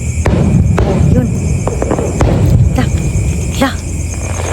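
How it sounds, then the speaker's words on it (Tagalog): Fireworks bursting at a public display, a series of sharp pops and crackles, some near and some farther off, ringing out over a constant crowd roar with people talking throughout. "Fireworks yun, no? Tingnan mo."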